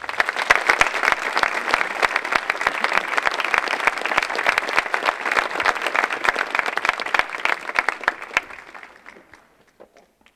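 Steady, dense applause from an audience at an outdoor literary reading event, honoring a family, continuing strongly for several seconds before fading away to silence.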